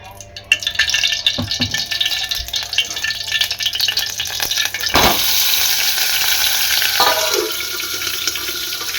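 A spoonful of oil hits a hot pan while pesarattu is being made and breaks into a loud, steady sizzle about halfway through. Quieter kitchen clatter comes before it.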